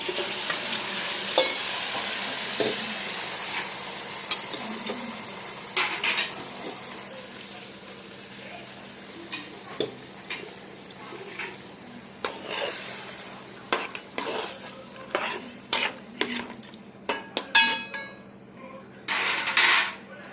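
Mutton pieces added to a pan with ginger paste, frying for curry: a steady sizzle runs throughout, broken by frequent scraping and clinking stirs that grow busier and louder toward the end.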